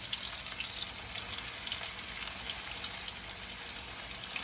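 Chicken frying in a batch of hot oil, a steady soft crackle and sizzle that stays even and fairly quiet throughout, with no voices.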